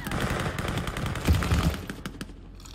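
Owen Gun SMG firing in Call of Duty: Vanguard, with rapid, dense automatic bursts, loud and close, tapering into a few scattered shots near the end.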